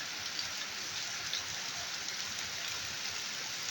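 Soft, steady rainfall in the Philippines with a constant hiss of drops hitting surfaces, fairly quiet and continuous.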